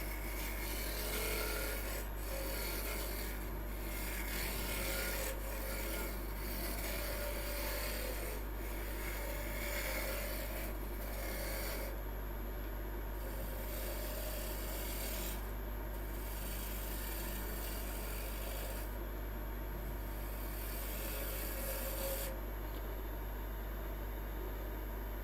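Wood spins on a lathe at a couple of thousand RPM while a gouge rubs and rasps against it in long, steady scraping passes over a constant low motor hum.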